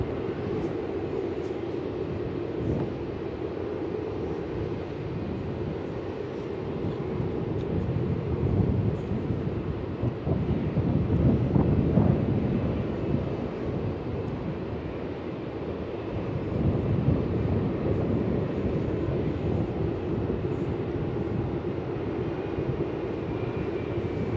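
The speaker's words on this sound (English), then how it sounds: "Got a Jetstar A320 which is starting up" A Jetstar Airbus A320 starts up at Melbourne Airport, heard as a steady distant rumbling whine with wind noise across the microphone, swelling slightly midway and then holding a constant drone.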